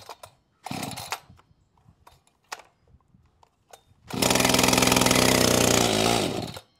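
An Echo CS-590 chainsaw with stock carburetor settings is pulled over a few times, giving short choppy bursts, then catches and roars loudly at a steady high rev for a couple of seconds before dropping off, close by with no speech.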